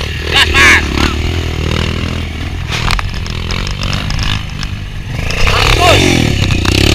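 A motorcycle engine revs hard nearby, with its roar climbing in bursts alongside rattling and scraping, while people shout briefly over it.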